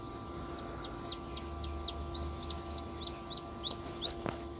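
A tiny newly hatched chick peeps repeatedly in quick, high, evenly spaced cheeps, close and clear over a faint steady hum.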